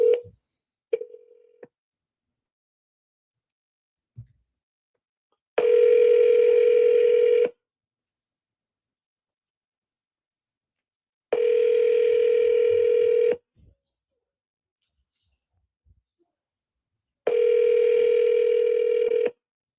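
Three separate bursts of phone tones, each about two seconds long with a steady pitch, come through a handset between short gaps of near silence while a call is placed again after a voicemail greeting.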